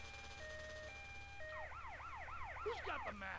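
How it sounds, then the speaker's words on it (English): An ambulance siren wails in the video game Grand Theft Auto Vice City, starting as a stepped two-tone call and then sweeping into a fast rising-and-falling yelp, faint under low background rumble. "Now there's two ambulances."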